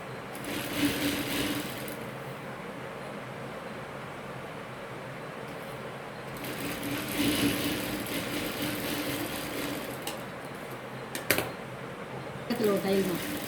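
A sewing machine stitches the neckline of a churidar cut from cross-grain pieces, running in close bursts with pauses between them while a voice talks.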